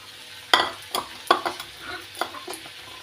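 Spices fry in oil with Xol fish and radish while a spoon stirs them, giving repeated sharp scraping clinks over a soft, constant sizzle.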